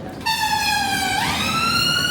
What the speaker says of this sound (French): ça c'est de la sirène qui sirène bien